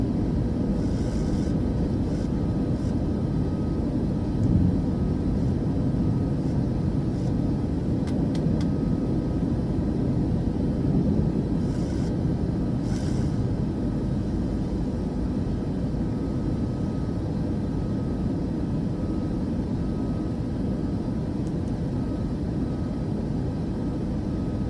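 An airliner takes off in a flight simulator game, a steady, loud roar of engines and runway rumble held throughout with a few brief higher hisses.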